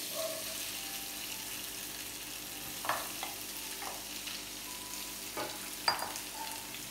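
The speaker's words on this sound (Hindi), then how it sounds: "आलू हमारे फ्राई हो रहे हैं, आप इनको थोड़ा सा भूनिए।" Potatoes sizzle steadily in a pan with toasted cumin, a continuous crackling fry broken by a few sharp scrapes and clinks of stirring, close and without speech.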